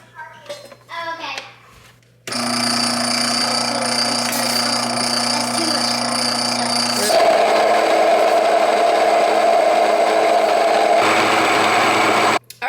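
A kitchen machine making homemade pretzels starts up after a voice and runs loud and steady with a whining motor drone, its pitch shifting midway, before it cuts off abruptly.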